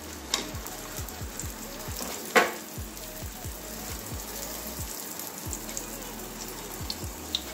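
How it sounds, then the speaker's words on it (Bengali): Aloo paratha shallow-frying in a generous layer of oil, giving a steady close crackling sizzle throughout with a brief louder spatter burst partway through and faint low thumps of handling in the background; no talking. "পরোটাটা দিয়ে দিচ্ছি"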